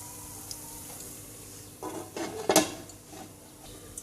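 A lid is set over a pan of potato chops shallow-frying in hot oil, giving a short metallic clatter and clank around the middle over a faint, steady sizzle.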